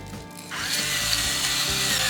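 Salt and pepper grinders crunch and grind over seasoned steak, veggies and sausage, a close, rough rasping that starts after a brief pause and continues steadily.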